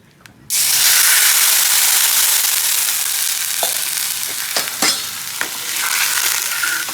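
Garlic hits hot oil in a tempering for a fenugreek curry and bursts into a loud, sudden sizzle. The frying hiss stays steady for several seconds, broken by a few sharp spoon clinks.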